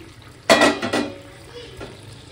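Fried potatoes dropped into a pan of cooked-down spiced masala for Bengali aloo dum: a sudden clattering splash with a brief sizzle and stirring scrape, then quieter kitchen noise.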